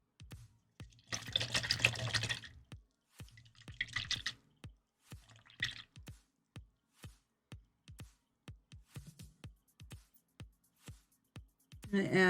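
Drops of water fall into Games Workshop miniature paint pots, a long run of short, sharp drips repeating at a steady pace, with a few louder stirring or sloshing bursts mixed in and quiet between the drops.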